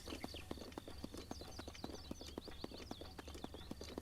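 Horse hooves clip-clop at a steady walking rhythm in the video game The Legend of Zelda: Breath of the Wild, with repeated sharp taps over ambient game music.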